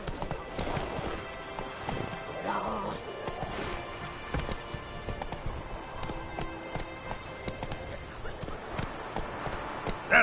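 Hooves of a horse ridden at a gallop in a video game clip-clop steadily and fast, close up, alongside game ambience and occasional voices.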